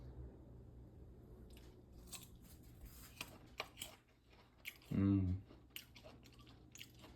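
Someone bites into a piece of pink tropical guava with white and pink flesh, giving a brief, loud, close crunchy chew around the middle, set against low background noise and quiet rustling.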